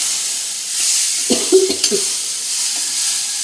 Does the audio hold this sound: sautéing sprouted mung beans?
yes